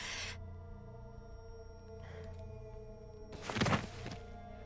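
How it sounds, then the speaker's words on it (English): A character collapses onto the floor in The Hundred Line: Last Defense Academy, a soft thud among quieter shuffles, landing with one louder impact near the end over sustained game music. "With a thud, Nozomi fully collapsed and hit the floor"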